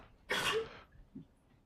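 A single sharp sneeze bursts out in a lecture hall, short and moderately loud, followed by a brief faint sound in the room's quiet.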